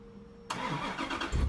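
Jeep off-road concept vehicle engine firing up after a quiet pause: an abrupt starter catch into a rough, loud idle with a heavier burst near the end.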